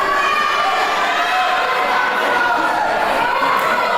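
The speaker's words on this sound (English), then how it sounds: "But listen to the crowd here, what a great atmosphere." Spectators at a Welsh kickboxing match keep up a loud, unbroken wash of cheering and shouting, a thick crowd roar filling the whole moment without letup.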